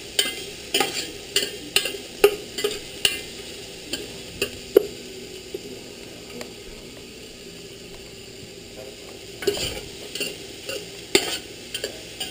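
Onions cooking for beef caldereta, a soft steady sizzle punctuated by sharp, rhythmic scraping clacks of a utensil stirring against the pan, a quiet stretch in the middle, then more stirring, with no talking.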